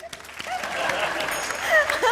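A studio audience at a comedy show bursts into a short, dense round of applause, loud and close, with a crowd cheer rising near the end.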